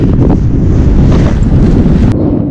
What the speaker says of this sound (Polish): Muszę inne miejsce wziąć, bo tak wieje.